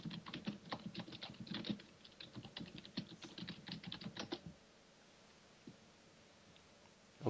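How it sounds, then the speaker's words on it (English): Fast typing on a computer keyboard during a podcast, a dense run of rapid clicks for about four seconds that stops abruptly, leaving near silence. "There's some crazy typing there."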